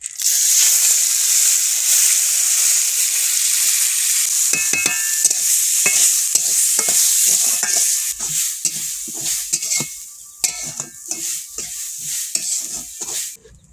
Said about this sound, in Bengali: হলুদ, গাজরগুলো ভালোভাবে ভেজে নিচ্ছি লাল লাল করে তুলে নেব।